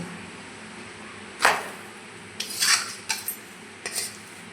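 A pitha is flipped in a covered pan on low heat, with a sharp metallic clank of the lid or spatula followed by several lighter scrapes and taps against the pan, close by in an otherwise quiet kitchen.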